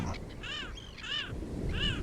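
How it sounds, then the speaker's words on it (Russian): A seagull cries out in three sharp, harsh calls at close range over a low background rumble, with no talking. "Чайка вскрикнула и выпустила его."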